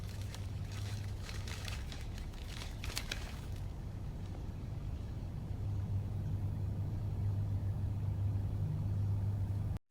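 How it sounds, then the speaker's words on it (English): A car engine cranks with a few rough bursts in the opening seconds, then settles into a steady low idle rumble that continues close and even until it cuts off at the end. "I start the car."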